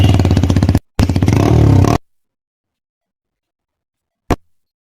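Apache RTR 160 4V BS7 motorcycle with an Akrapovic exhaust and the dB killer removed, giving two sharp, loud throttle blips in quick succession, then silence broken by a single short pop.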